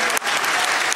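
Brief burst of dense audience clapping at a live Super Mario Sunshine speedrun event, fairly close and steady for about a second.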